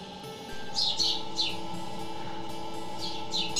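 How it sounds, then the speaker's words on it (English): Baby birds at a wildlife rescue centre give high, thin chirps in short bursts of a few calls each, fairly close, over a steady low hum and faint background noise. "These baby birds are helpless"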